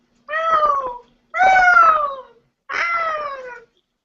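A cat gives three loud, drawn-out meows close by, each lasting under a second, with short silent gaps between them.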